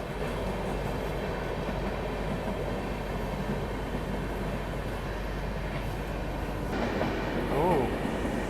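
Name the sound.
passenger train overtaking on parallel track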